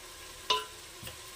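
Ginger-garlic paste frying in a pan for goat head curry gives a low, steady sizzle, broken by two quick scraping stirs.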